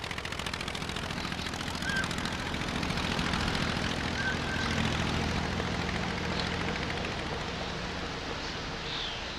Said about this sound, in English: The Anzani engine of Blériot's plane ran perfectly